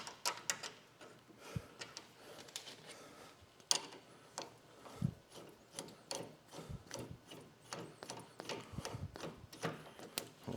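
Ratcheting as a bolt is tightened on a frame-mounted highway peg mount, giving a rapid run of close, crisp metallic clicks in uneven bursts with brief pauses between strokes, and no talking.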